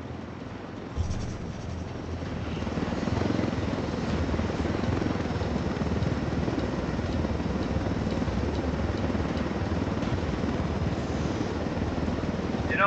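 Helicopter flying in Ghost Recon Wildlands, a steady loud rotor and engine drone that holds on throughout with no talk.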